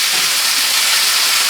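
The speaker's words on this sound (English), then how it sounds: "I'm searing this with a little bacon stock, bacon grease, whatever you want to call it" Beef tenderloin sears in hot bacon grease in a pan: a loud, close, continuous sizzling hiss with no break.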